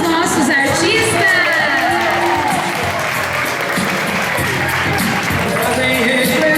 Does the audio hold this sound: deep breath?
no